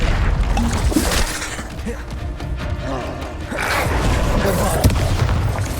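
A Bombarda spell explodes in the video game Hogwarts Legacy, a heavy crashing blast with debris and rumble that stays loud and dense throughout, with a second swell of impacts near the end.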